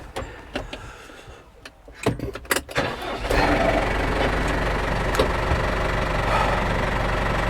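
A warmed-up tractor engine, on a farm job with a Zago machine, starts after a few clunks and knocks, then settles into a loud, steady running rumble close by.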